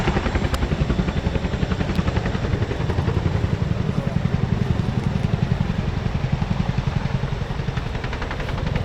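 A Chinook tandem-rotor helicopter hovers at the Royal International Air Tattoo 2024 air show, its loud, steady rotor thumping and turbine roar continuing unbroken throughout.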